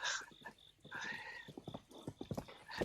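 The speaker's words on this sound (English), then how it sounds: "Oh, my horse is over there." Horse hooves clip-clopping in The Legend of Zelda: Breath of the Wild, a run of quick close knocks building toward the end, mixed with short tonal game sounds and a faint whinny.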